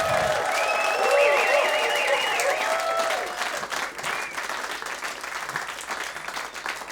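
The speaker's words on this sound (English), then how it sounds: "Big round of applause for Kim Salmon, please." An audience applauds musician Kim Salmon after a live in-conversation event at Melbourne radio station 3RRR. Steady, full clapping with some cheers begins under voices and singing, then continues as a dense patter.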